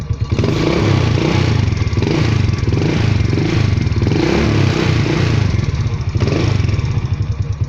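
A motorcycle engine runs after a kill switch has been installed, idling loud and close with a steady throbbing rumble and a slight clatter the whole time.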